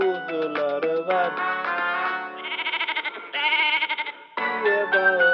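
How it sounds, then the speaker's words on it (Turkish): Repeated lamb bleats with a quavering, pulsing tone sound in the middle of a bright Turkish children's farm song, loud and mixed with the accompaniment. "Çiftliğinde kuzuları var."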